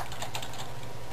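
Quick keystrokes clatter on a computer keyboard, a brief burst of close, light clicking taps.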